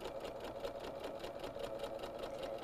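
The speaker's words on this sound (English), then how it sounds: "I am going to slow my speed down just a little bit. And I'm going to stitch." Sewing machine stitching paper piecing at a slowed speed, a steady close mechanical whir with a fast even pulse of needle strokes, running alone without pauses.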